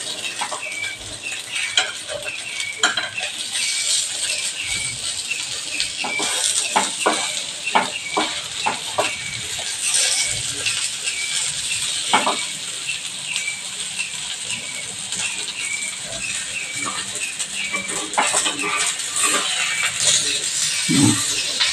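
Sabudana appe frying in a low-oil appe pan: a steady bright sizzle throughout with occasional clicks and scrapes of a spoon turning them, close and moderately loud, no talking.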